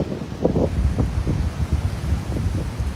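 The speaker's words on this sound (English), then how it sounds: "this is windy" Strong outdoor wind gusting against the microphone near water, a fluctuating low rumble with uneven bursts over three seconds and no voice.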